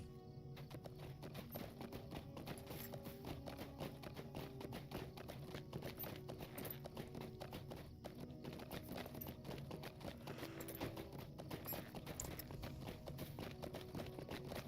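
Continuous rhythmic hoofbeats clip-clop steadily throughout, faint and even, as a horse moves along at a steady pace in a Middle-earth video game.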